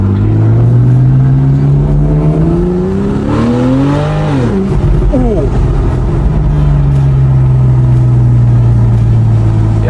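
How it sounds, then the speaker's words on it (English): A Porsche 911 engine revs in neutral, a loud, close, droning tone that climbs and falls in a sharp rev burst midway before settling back to a steady idle hum. "I don't know how to rev the Porsche. Wait, let me put it into neutral."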